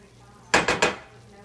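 Three quick scraping strokes of a spoon stirring onions and vegetables in a gumbo pot, close and distinct, the metal and food rasping against the pot before quieting down.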